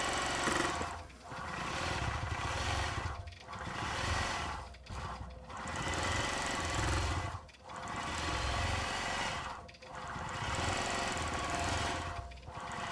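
A sewing machine stitches thread through white fabric in steady bursts, its hum running in long even stretches broken by brief pauses, close and continuous.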